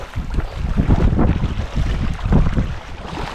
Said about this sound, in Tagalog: Hangin, lamig na naman.